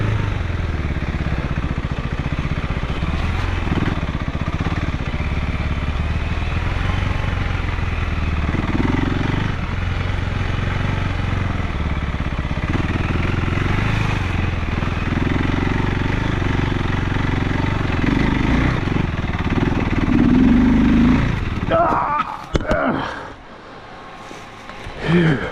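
A KTM 390 Enduro R single-cylinder motorcycle rides off-road, its engine droning steadily with revving swells and shifts in pitch throughout. Near the end it sputters and cuts out abruptly, followed by a few brief knocks and rustles.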